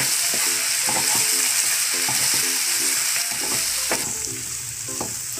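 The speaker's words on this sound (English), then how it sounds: "Keep stirring the mushrooms" Garlic mushrooms with pepper and lime juice sizzle loudly in a pan while a utensil scrapes and clinks in a quick, irregular stirring rhythm, close up with no voices.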